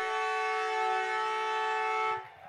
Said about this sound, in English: it's the final siren has sounded